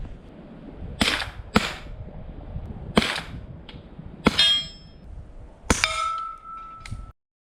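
Quick suppressed subsonic 9mm shots from an AR-style rifle cracking in an uneven series, recorded downrange, a few with a metallic ring, then a silent gap before another rapid cluster of sharp reports.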